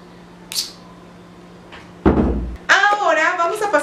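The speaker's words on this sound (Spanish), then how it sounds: "Cierra la puerta, por favor." A door in a home is shut with one solid broadband thud partway through, followed right after by someone speaking.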